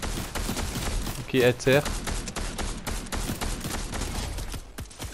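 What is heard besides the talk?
gunfire from a video game, enemy shooting at the player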